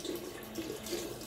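Hot tap water runs steadily from a faucet to wet a Yaki 26 shaving brush, a continuous close splashing stream with no talk.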